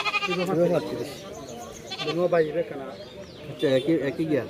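Goats bleat at a busy livestock market, several loud, wavering cries rising close by in bursts over a bed of crowd noise and people talking nearby.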